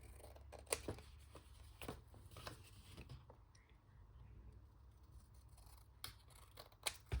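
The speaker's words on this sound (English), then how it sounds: "I'll just trim off these little extra pieces. That's excess paper." Scissors trimming excess paper while making an envelope from a 12x12 paper sheet, faint sharp snips scattered irregularly over a quiet background, with no talk.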